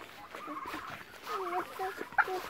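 Turkey poults and chickens chirp and cluck close by while being fed grass in a farmyard, with repeated short high peeping calls and a sharper squawk near the end.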